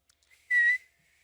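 A single short, clear whistled note, close and moderately loud, surrounded by near silence.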